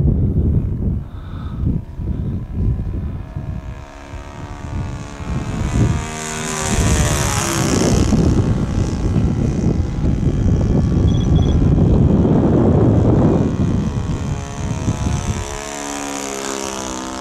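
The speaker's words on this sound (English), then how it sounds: "Totally quiet, we will just enjoy the sound of the engine." The Saito FA-62B glow engine of a 1580mm P-51B Mustang model airplane whines steadily as the craft flies, its pitch rising and falling as it passes nearer and farther, loud and continuous.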